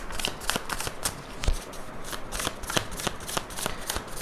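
Tarot cards shuffled by hand, a steady run of crisp riffling slaps and flutters repeating every fraction of a second, close and clear with no talking over it.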